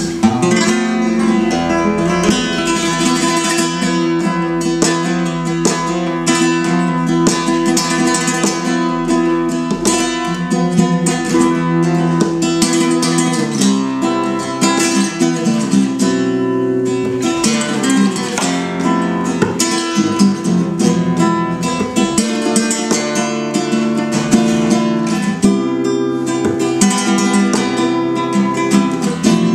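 A newly built handmade acoustic guitar from Felipe Conde Guitars is strummed continuously, bright and full, with steady chords and picked notes throughout, no voices.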